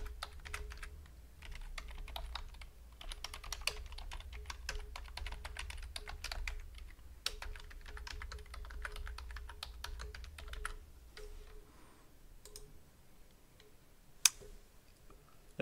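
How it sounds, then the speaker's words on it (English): Steady typing on a computer keyboard during login to a self-hosted WireGuard VPN web interface, with quick continuous key clicks throughout, a few louder isolated taps and a low background hum, and no talking. "Maybe I didn't type in my email address right."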